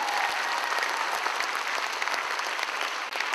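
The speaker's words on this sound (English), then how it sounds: "She deserves a better round of applause than that." Steady applause from a conference crowd at York College fills the room, many pairs of hands clapping in a thick, continuous roar that holds level before a brief dip near the end.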